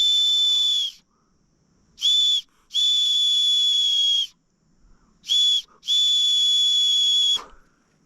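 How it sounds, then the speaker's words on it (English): An emergency whistle clipped to a bag is blown in a hot, remote Australian outback setting, giving five shrill blasts of varying length, some short and some long, loud and close with quiet gaps between. "That's an emergency whistle. It's a clip on my bag with a whistle on it."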